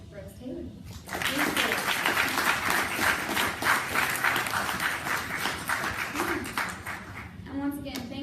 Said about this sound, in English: So we can give one last round of applause to Dr. Brooks Taylor.